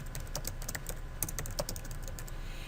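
Rapid keystrokes on a computer keyboard as a web search is entered, a steady run of light clicks at close range with no speech.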